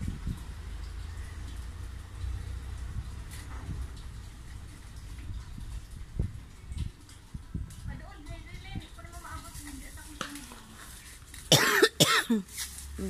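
A person coughs and clears their throat indoors, with a couple of sharp, loud coughs near the end after quieter shuffling and faint background noise.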